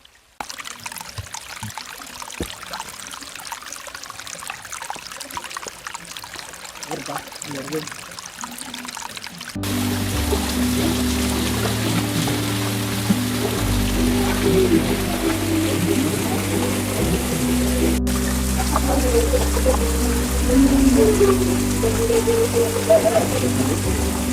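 Waterfall pouring steadily in forest near Yellapur, a continuous broadband rush that swells louder partway through and stays dense, with a tonal hum layered beneath it.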